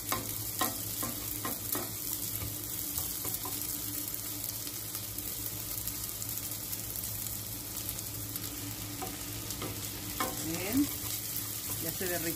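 Butter and rice fry over lowered heat in a pan, giving a steady soft sizzle with occasional stirring scrapes and light clinks, moderately close and with no talking.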